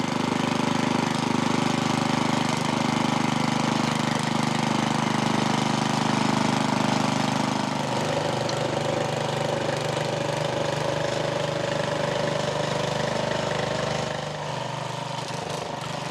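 A Troy-Bilt tiller engine chugs steadily while tilling garden soil, a loud close mechanical drone with a rough knocking texture. The pitch shifts partway through and the engine eases slightly near the end.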